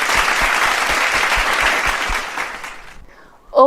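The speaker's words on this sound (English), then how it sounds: "Big round of applause." Applause from an investor relations awards audience as a company is named winner: a dense burst of clapping that fades out after a few seconds, followed by a brief voice at the very end.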